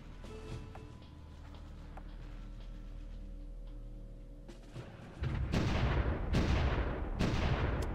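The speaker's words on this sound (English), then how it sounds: "Okay, that's some artillery there." Artillery fire in the strategy video game Supreme Ruler Ultimate, starting with quiet ticking interface sounds and then breaking into a run of loud booming blasts in the last few seconds.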